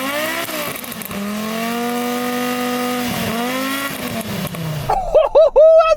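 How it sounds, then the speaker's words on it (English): A loud Audi Quattro Group B rally car engine drones and revs with a steady, high-pitched whine, then snaps into sharp, rapid throttle blips at the end. "rev up the rally car"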